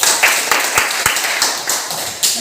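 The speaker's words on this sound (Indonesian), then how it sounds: "Tepuk tangan." A classroom of students claps their hands in applause, a steady patter of sharp, irregular claps, fairly close and loud, with no speech over it.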